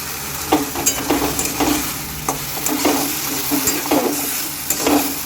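Mustard paste being stirred and fried in a pan, steady sizzling broken by repeated scraping strokes of a spoon at a loose, uneven rhythm, close and fairly loud with no talking.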